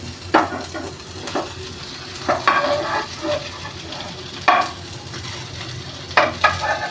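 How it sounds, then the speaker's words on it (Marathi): Stuffed masala bitter gourds shallow-fry in oil in a pan, a soft steady sizzle broken by several sharp clinks and scrapes as the pieces are stirred and turned, with no talking. "आपल्याला अगदी मच्छी कशी फ्राय करतात तसंच फ्राय करायचे"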